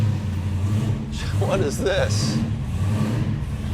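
A Hemi Cuda's engine rumbles steadily close by, with a brief voice heard over the low roar.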